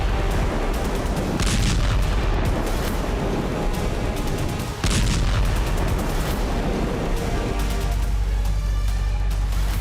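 Explosions from a missile attack on a Turkish ship at Odesa port, a dense, continuous rumble of blasts with sharp repeated bursts around two and five seconds, loud and harsh throughout.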